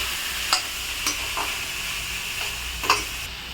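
Vegetables sautéing in a pan for a sundakkai rice dish, giving a continuous hissing sizzle with a few brief scraping stirs and clicks spaced through it, and no speech.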